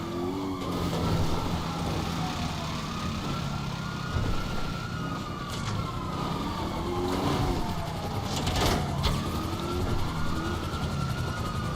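Several police car sirens wail and sweep together in the GTA 5 video game, loud and continuous with overlapping rising and falling tones over engine noise, and no speech.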